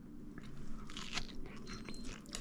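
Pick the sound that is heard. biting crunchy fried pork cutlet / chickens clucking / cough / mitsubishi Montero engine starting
biting crunchy fried pork cutlet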